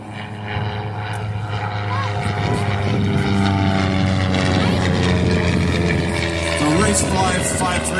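Propeller race airplanes, including a Cessna 172, making low passes at an air race, a loud droning engine roar with shifting pitch as they sweep by, while a commentator talks over it.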